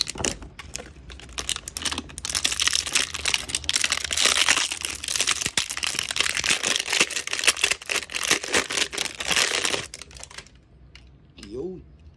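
A packaged TDD laser gun auxiliary light for a motorcycle is unboxed up close, with dense crinkling of plastic and cardboard, clicks and rustles for about ten seconds before a brief voice.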